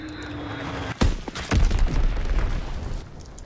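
A heavy bomb explosion in a WW2 video game: a sharp blast followed by a deep rumbling boom and debris that rolls on for about two seconds before fading.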